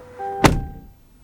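A 2025 Chevy Silverado 1500 LTZ door swings shut with a single solid, close thunk and a short fading resonance, alone against a faint electronic tone.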